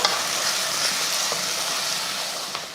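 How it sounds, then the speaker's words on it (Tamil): Chili, coriander and cumin powders are stirred into mutton gravy in a pan, a continuous soft sizzle with faint scraping strokes, fairly quiet and without talk. "இப்போ இதையும் கலந்துருவோம்"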